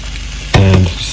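Beaten eggs poured into hot oil at the side of a frying pan, giving one sudden sharp hiss that settles into a steady sizzle lasting under a second.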